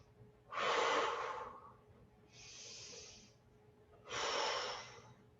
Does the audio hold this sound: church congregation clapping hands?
no